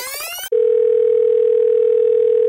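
Telephone call tone in the Star Stable horse-riding video game: a brief musical jingle, then a single loud, steady, unbroken tone held for about two seconds before stopping.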